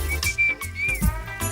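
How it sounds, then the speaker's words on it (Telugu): Someone in an exam hall whistles a clear, wavering tune at close range, broken into a few short phrases, with low thumps around it. "అలా విజిల్ కూడా వేయకూడదు తల్లి"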